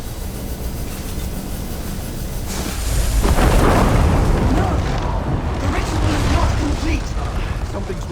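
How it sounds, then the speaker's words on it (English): A Wildburn seed in the fantasy game ESO Gold Road unleashes its energy as a dense, loud rumbling roar that swells midway and keeps churning with crackling debris, over a steady low drone. "The Wildburn seed released its energy too early."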